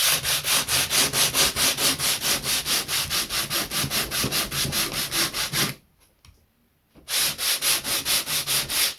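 Hardwood keel of a Bluenose model ship sanded with a large, coarse sanding block, rapid even back-and-forth rasping strokes, close and steady, pausing briefly for about a second before resuming.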